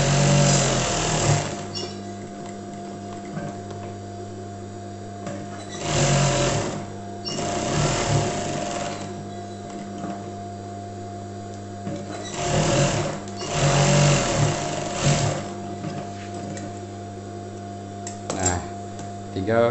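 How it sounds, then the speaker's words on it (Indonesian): Sewing machine stitching the pocket lining of a welt pocket, a steady mechanical whir running continuously with a few brief pauses and changes in speed, close and fairly loud with no talking. "Setelah kita jahit tindas keliling, tinggal kita jahit di bagian puringnya ya"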